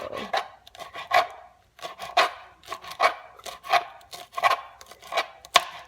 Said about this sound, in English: roll them tight like a cigar, and then just take it and cut it like so.